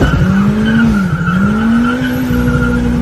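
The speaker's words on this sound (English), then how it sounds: "You must not have been expecting this guy to drift in front" A car drifting with sustained, loud tire squeal, a steady high screech over engine roar that dips briefly midway and then holds to the end; no voices.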